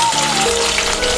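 Curry leaves frying in hot oil give a loud, continuous crackling sizzle up close, with no pauses or voices.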